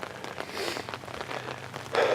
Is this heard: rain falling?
yes